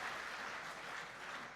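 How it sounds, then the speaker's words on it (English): Faint, distant applause from the audience at an Australian lawn bowls volunteer awards ceremony, a soft continuous patter of many hands lasting under two seconds. "Round of applause, please, everyone, for Bowls Australia President Darryl Clout."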